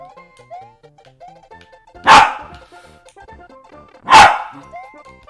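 Two loud, sharp barks from a dog close by indoors, spaced about two seconds apart, over quiet video-game music with soft melodic tones.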